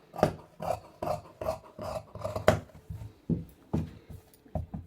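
Scissors snip through plain white cotton cloth being cut for a baby's dress, a rhythmic series of close, crisp cuts that pauses briefly, then resumes with several more snips.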